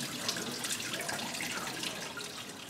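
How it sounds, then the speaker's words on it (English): Antifreeze drains out of a 1998 Saturn SL2 cooling system as a steady, close splashing trickle of liquid pouring into a container, continuous and unbroken with no voices. "You see all the antifreeze coming out there."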